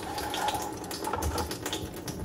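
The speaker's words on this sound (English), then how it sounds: "patiently wait for the water to stop coming out of the faucet" Water runs steadily from the faucet of a GE reverse osmosis system during bleach sanitizing, a continuous close splashing hiss into the sink with no talk over it.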